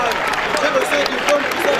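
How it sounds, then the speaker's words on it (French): An audience at a dance battle final applauds its participants, a short burst of crowd clapping mixed with cheering and a voice over the top. "Merci d'applaudir très fort pour nos participants s'il vous plaît."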